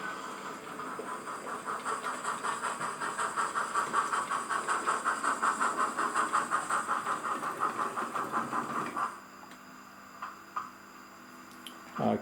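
A model Class 9F steam locomotive, number 92212, with DCC sound running on a test track: rhythmic chuffing beats with hiss for most of the stretch, then a quieter tail with faint clicks.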